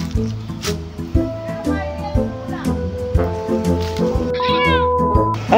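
Cat meowing repeatedly in short, clear calls, close and fairly loud, over a steady hum and background voices along a Cordillera mountain road trip in Tublay.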